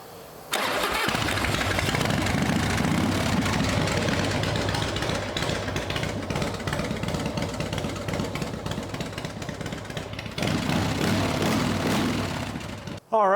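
Harley-Davidson Dyna Wide Glide V-twin engine on a bench after carburetor tuning, cranking and catching, then running loud and steady with a rough, throbbing idle for over ten seconds before a brief dip and rev near the end.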